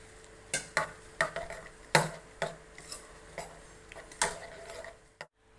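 A utensil stirs beaten eggs mixed with carrot for an omelette, giving a string of quiet, irregular scraping clicks against the bowl, close and soft, with no talking.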